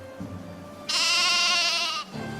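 A sheep in a video game bleats once, a loud, sustained wavering cry lasting about a second, clear and close over a low background hum.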